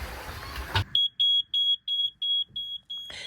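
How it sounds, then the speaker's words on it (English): A boat's propane sensor alarm, wired to the propane solenoid behind the oven, gives a run of about eight sharp high-pitched electronic beeps in steady rhythm, loud and close, between bursts of other noise. "The alarm goes off like every minute unless you mute it again"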